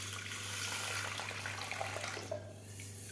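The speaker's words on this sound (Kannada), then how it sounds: "ಇವಾಗ ಇದಕ್ಕೆ ಸ್ವಲ್ಪ ಮುಳುಗುವಷ್ಟು ನೀರು ಹಾಕೋಣ ಕಾಳಿಗೆ ಬೇಯಿಸೋಕ್ಕೆ." Water poured from a tap onto moong beans in a cooking pot, a steady continuous rushing splash that runs loud for about two seconds and then drops away, with a low hum underneath.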